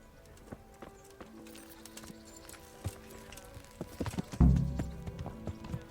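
Horse hooves clip-clopping in a quick rhythm in the video game Kingdom Come: Deliverance, building louder toward the end with a heavier thud.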